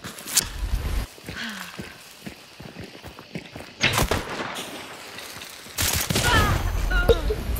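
Sharp gunshots crack out in a Hunt: Showdown match, a couple of loud close reports amid scattered quieter shots and footsteps, while players talk in Czech between the blasts.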